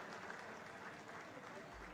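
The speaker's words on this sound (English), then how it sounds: "So let us applaud for him and the entire team who has put this beautiful function together." Very faint, steady audience applause at an industry awards function, a soft continuous wash of clapping heard from a distance.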